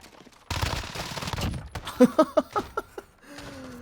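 Rapid bursts of Fennec SMG fire in Call of Duty Modern Warfare, a dense rattling stream followed by a string of distinct shots, moderately loud and mixed with game effects.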